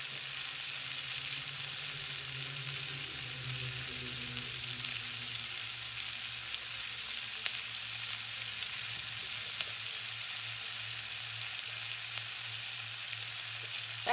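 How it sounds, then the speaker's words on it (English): Onions sautéing in a saucepan until translucent, giving a steady, even, fairly quiet hiss of frying that carries on without a break. "you're gonna saute your onions until they're nice, not quite caramelized, but they're see-through, translucent"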